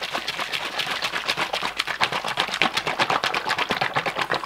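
A lidded plastic tub holding paint and hardener is shaken hard by hand, giving a fast, steady run of loud sloshing knocks close to the microphone with no talk over it.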